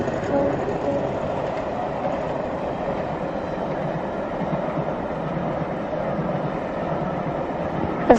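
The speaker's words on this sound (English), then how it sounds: "There's a diesel going past on the rail line outside, just over the other side of this line." A diesel train passing on a nearby rail line, a steady rumbling roll with rhythmic wheel clatter heard from inside a stopped train, continuous throughout, with no talking.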